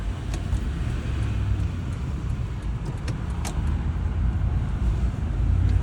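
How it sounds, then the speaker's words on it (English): A truck passes along a road in steady, continuous traffic rumble, a broad low roar that builds slightly toward the end with no talk over it. "It's your prime truck."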